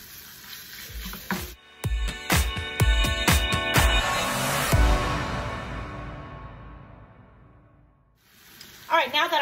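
Sirloin steak sizzles loudly in a hot pan while a utensil breaks it apart in a quick series of scraping clacks; the frying hiss then fades gradually, and a voice comes in near the end.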